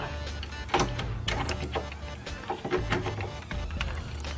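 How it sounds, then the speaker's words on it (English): Screw fastening with supplied hardware and an aluminum plate, a series of short clicks and ratcheting bursts at close range, irregular and fairly quiet, with mechanical handling noises between. "So we're just bolting this down using the supplied hardware and an aluminum plate just to rigidly affix it."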